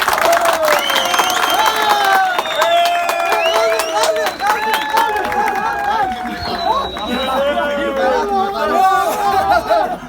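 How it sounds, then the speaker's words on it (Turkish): A crowd of soldiers at the Metris barracks in Istanbul's Esenler district cheers and claps, with loud shouting voices and overlapping chatter dominating and scattered applause mixed beneath the yelling. "Alper için bir alkış verin beyler"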